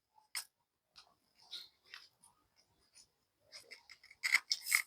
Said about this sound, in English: So let me do the cutting now.